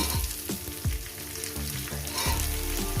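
Chopped onion and green chili frying in oil in a pan, a steady close sizzle with occasional stirring scrapes, no talking.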